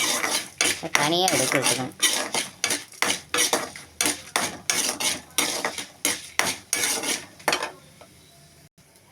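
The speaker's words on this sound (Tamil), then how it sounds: "பாருங்க, நல்லெண்ணெயில் போட்டு இப்படி வதக்கிறோம்." Urad dal sautéed in sesame oil in a pan, a metal spoon scraping and clinking against the pan in a steady rhythmic stirring, close and loud, with a brief spoken line near the end.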